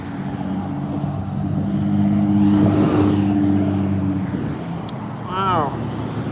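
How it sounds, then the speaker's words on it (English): A tan car driving past on a town street, its engine and tyre noise swelling as it nears and fading as it leaves, with a brief squeaky sound near the end. "That's a 93 license plate tan car."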